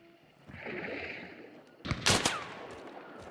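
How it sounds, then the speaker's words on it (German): A loud nearby gunshot cracks out in the game Hunt: Showdown, a single sharp blast after a stretch of quieter rumbling ambience, with no talk over it. "Der Schuss war nah."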